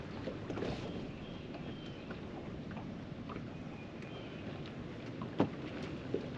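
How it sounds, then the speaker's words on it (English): Strong wind blows outdoors near a boat ramp, a steady low rumbling buffet with faint gusts, plus a couple of brief knocks near the end. "we're getting a major wind now."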